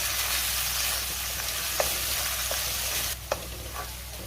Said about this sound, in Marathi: आता आपल्याला ह्यामध्ये डेसिकेटेड कोकोनट घालायचे आणि पुन्हा 1 मिनिटभर चांगलं परतून घ्यायचे